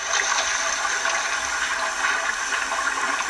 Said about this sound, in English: With a mighty splash, Thomas landed in a pool of water.